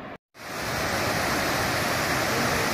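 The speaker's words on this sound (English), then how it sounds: "Another waterfall. This thing is pretty spectacular to look at." Steady, loud broadband roar of a waterfall beside the Appalachian Trail in Tennessee, heard close and continuous after a brief dropout at the very start.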